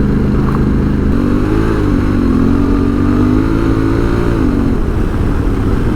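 A 2022 Honda Africa Twin adventure motorcycle riding on a dirt road, its engine droning loudly and steadily with a rising, wavering tone as it pulls along, heard up close with wind and road rumble beneath.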